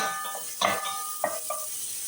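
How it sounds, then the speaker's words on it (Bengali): Chopped white onions fry in hot oil in a pan, a steady soft sizzle broken by a few scraping stirs of a spoon against the pan. "সাদা পেঁয়াজটা ভালো করে একটু নাড়াচাড়া করে নেবেন।"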